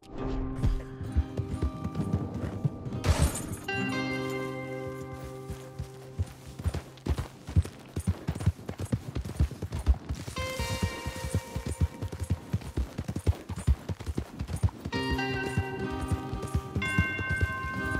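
Rapid hoofbeats of galloping horses thunder through a dense, busy Red Dead Redemption 2 game soundscape, with a musical score and other effects layered on top.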